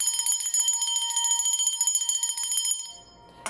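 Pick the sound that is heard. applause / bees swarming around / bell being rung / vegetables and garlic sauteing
bell being rung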